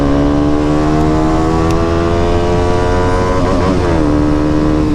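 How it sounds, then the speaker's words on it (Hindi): KTM Duke 200 motorcycle with a modified loud exhaust and a dB killer fitted, heard close as a loud steady engine drone that rises briefly in pitch near the end. "डीपी किलर लगाने के बाद भी बाइक इतनी लाउड लग रही है मेरे को।"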